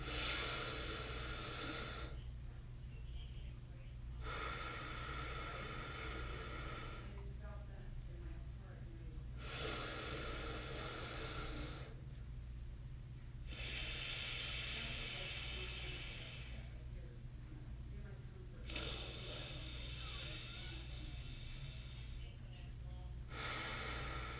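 Slow, deliberate pranayama breathing, air drawn and pushed through the nose in long hissing strokes, about five cycles with short pauses between, close and steady over a low background hum.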